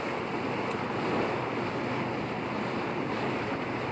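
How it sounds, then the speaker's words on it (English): Waves break over sandbanks in the German Bight, heard from a sailing yacht in the channel as a loud, continuous roaring wash mixed with wind noise, with no voices. "the waves breaking on them"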